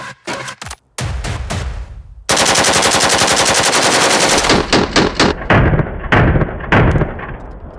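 An AK-12 assault rifle fires outdoors, first in a few sharp single shots, then in a long loud continuous burst, followed by more separate close shots.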